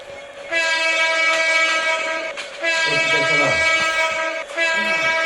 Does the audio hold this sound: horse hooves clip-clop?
no